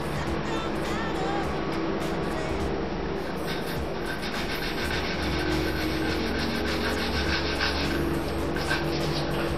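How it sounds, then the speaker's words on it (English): Sandpaper rubbed steadily over painted plastic on a Nerf blaster, a continuous close scratchy rasping that keeps going without pause for several seconds. "I'm going to continue sanding on this line over here."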